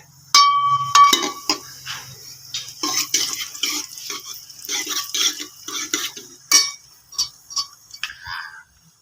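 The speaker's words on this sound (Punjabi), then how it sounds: "ਤੇਲ ਆਏ ਆਪਣਾ ਗਰਮ ਹੋ ਗਿਆ ਤੇ ਹੁਣ ਆਪਾਂ ਇਹਦੇ ਵਿੱਚ ਜੀਰਾ ਪਾ ਦਿੰਨੇ ਆ" Cumin seeds tipped into hot oil in a pan while cooking desi-style spinach bhurji, giving a run of crackling, clinking sizzle bursts that rise and fade over several seconds, close and moderately loud, with no talking.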